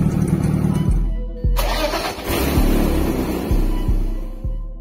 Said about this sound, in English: Koliko se ja razumem, čini mi se da ovako ne bi smeo motor da se čuje.